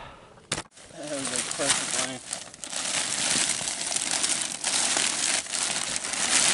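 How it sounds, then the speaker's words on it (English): A plastic tarp laid over mylar is handled and rolled up to make a base for a winter camping shelter. Close, continuous crinkling and crackling rustles go on throughout, with someone talking briefly near the start. "just rolling the extra plastic here up to give us a nice little base here on the bottom"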